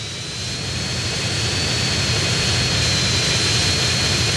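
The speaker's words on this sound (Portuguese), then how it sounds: "eu não gosto do barulho desse avião" A military jet in GTA San Andreas roars with a steady, loud, whooshing engine tone and a high whine that runs throughout without letting up.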